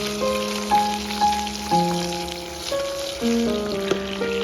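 Fish sizzles steadily in a hot pan while shaken so it slides freely, a constant crackle with soft musical tones playing over it.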